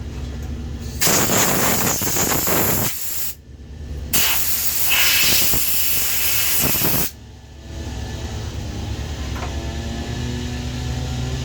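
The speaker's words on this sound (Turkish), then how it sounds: "Şimdi orayı küçük bir hava tutacağız." Compressed air blasted into the carburetor of a STIHL MS 290 chainsaw, two loud, close hissing bursts of a few seconds each with a brief pause between them, then a quieter background hiss.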